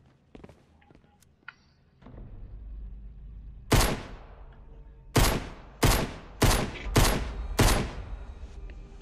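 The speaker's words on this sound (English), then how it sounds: "we've got a gun, so we can actually shoot" Gunfire in Fortnite in a horror map: six loud separate shots in an uneven rhythm, following a few soft taps and footsteps over a low background rumble.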